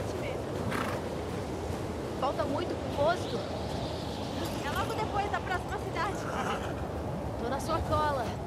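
Steady, roaring wind gusts through The Last of Us Part II, a constant broad rush that continues throughout while a person talks over it.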